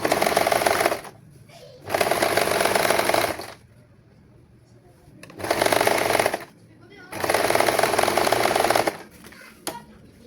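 An overlock sewing machine stitches the edge of a saree blouse in loud, close bursts of fast whirring, four runs separated by short pauses.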